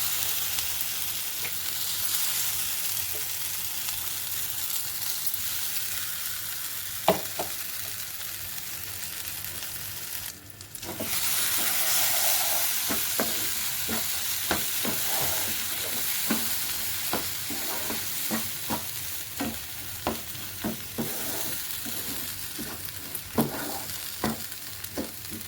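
Raw mango pieces sizzle steadily in a hot pan while a spoon stirs them, with repeated sharp scrapes and clicks over a continuous frying hiss; no one speaks.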